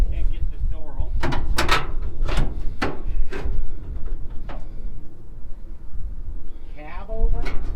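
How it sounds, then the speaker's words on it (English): Someone yanks repeatedly at a stuck door on an old cab-over truck in a Montana junkyard, producing a series of sharp metallic clunks and rattles in irregular bursts, close and loud, with people talking nearby. "Can't get this door open."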